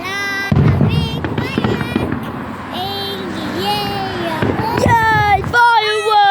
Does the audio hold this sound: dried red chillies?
no